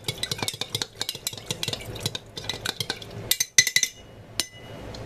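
A tablespoon stirs pickling liquid in a container, giving a rapid run of small clinks and taps against the sides, close and fairly crisp, with a few brighter metallic chinks near the end and no talking.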